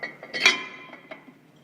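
Metal lathe adapter with an 8-lug pattern slid onto a brake rotor for an on-car lathe, giving a few close, bright metallic clinks and taps in quick succession, the loudest near the middle, then fading.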